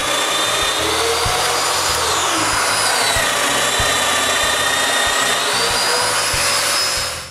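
A power tool whines continuously while drilling mortises in a wooden crosspiece for a miter saw stand, loud and close, its pitch dipping and rising as it bites into the wood, with no voices over the steady drone.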